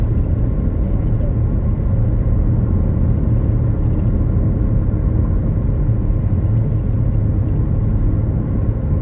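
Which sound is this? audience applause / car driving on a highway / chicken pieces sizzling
car driving on a highway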